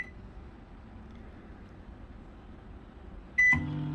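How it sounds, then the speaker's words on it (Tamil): Microwave oven roasting peanuts, a steady low hum running throughout, followed near the end by a sharp electronic beep and a change in the running sound. "அதை வந்து மைக்ரோவேவ் ஓவனில் வச்சுட்டு"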